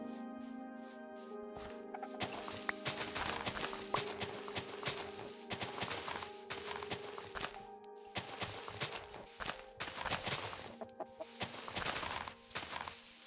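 Chickens clucking in the video game Minecraft, a steady run of short repeated clucks and calls close by alongside game footstep sounds, continuing for several seconds without talk.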